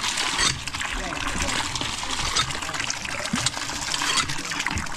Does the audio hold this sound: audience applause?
no